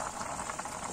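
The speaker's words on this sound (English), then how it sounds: "our beans is cooking here" Soft, continuous bubbling of Nigerian stewed beans (ewa riro) simmering in a pot, a faint, brief burst of boiling liquid with no talk.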